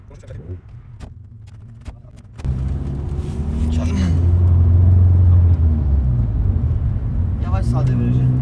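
A learner driver's car engine idles and then runs steadily with a low rumble as the car pulls away slowly, loud and close from inside the cabin, while people talk over it.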